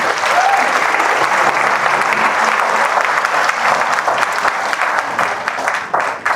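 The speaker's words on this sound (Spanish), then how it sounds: "denle un aplauso grande a Dios por su vida" A church congregation applauds, dense sustained clapping from many hands that fills the room steadily and evenly, with faint voices mixed in and a slight dip near the end.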